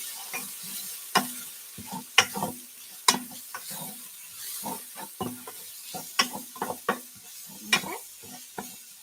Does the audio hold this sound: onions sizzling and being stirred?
yes